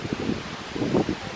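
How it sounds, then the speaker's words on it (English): Wind gusts outdoors at a holiday village campsite, a brief, close rumbling buffet against the microphone in two uneven pulses. "It's a little windy today."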